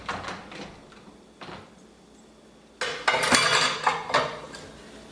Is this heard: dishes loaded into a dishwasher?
yes